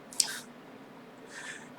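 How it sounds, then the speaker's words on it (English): A warm-water sponge squishes against dishes during rinsing, with a short wet squeeze near the start and a softer one near the end over a quiet background. "Get rid of as many suds as we can with a clean, warm sponge full of water."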